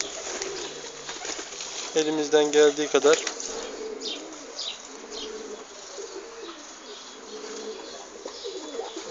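A pigeon wounded by a hawk coos softly with a wing flutter, close by, while people talk over it throughout.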